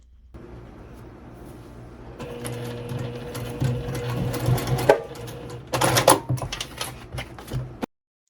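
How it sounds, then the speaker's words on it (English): A sewing machine runs in steady bursts, its motor humming with rapid stitching over zipper teeth and a few louder clunks, then stops abruptly. "Take extra care while you're sewing over top of the zipper teeth."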